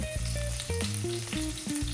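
Curry leaves hit hot oil where mustard seeds and fenugreek are already crackling, giving a steady frying sizzle. A melodic musical tune plays over it, and there is no speech.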